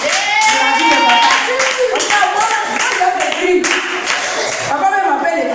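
Congregation at a prophetess's church service clapping rhythmically and acclaiming the Lord, hands beating steadily under loud voices and shouts throughout.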